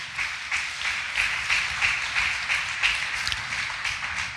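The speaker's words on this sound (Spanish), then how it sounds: "Dele palmas al Rey de Reyes en esta mañana." A church congregation claps together during a Sunday morning service, a steady wash of many hands with a loose rhythmic pulse, filling the room with no voices.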